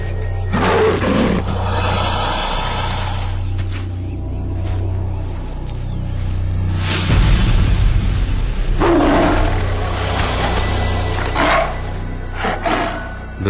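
A tigress fighting a crocodile, with loud, sustained roars and snarls swelling and fading over several seconds amid rough thrashing noise and no speech.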